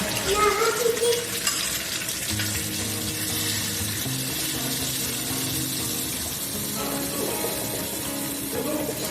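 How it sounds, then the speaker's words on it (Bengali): A paste of raw banana peel and black cumin goes into hot oil with garlic in a pan, giving a continuous wet hiss and sputter that settles into a steady, moderate sizzle. "এবার সেই তৈরি করে রাখা কাঁচা কলার খোসা আর কালো জিরের পেস্টটা এখানে ঢেলে দেব"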